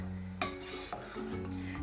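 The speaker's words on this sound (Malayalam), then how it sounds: "അതുകൊണ്ട് കൈയെടുക്കാതെ തന്നെ ഇളക്കിക്കൊണ്ടിരിക്കുക" Falooda milk mixture being stirred in a pan on the stove: a spoon scrapes and rubs against the metal in steady, close strokes over a low, constant hum, with no voices.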